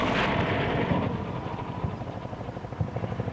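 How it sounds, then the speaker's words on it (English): Attack helicopters in Combat Mission Shock Force drone with a steady rotor roar and low rhythmic chopping, fairly loud and continuous, with no voices. "So, the attack choppers are finally on station, and ready to engage."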